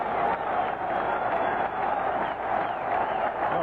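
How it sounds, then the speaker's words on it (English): A baseball stadium crowd roars continuously at a 1982 Mariners game during Gaylord Perry's 300th win, a dense, distant wash of cheering voices that holds steady throughout. "Oh, listen to this crowd."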